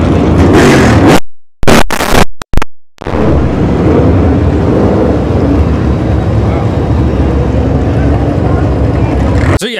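A NASCAR race car roars loudly away down pit road from the pit box after the race, the sustained blast overloading and distorting the recording after a few brief cut-outs; voices are faintly mixed in.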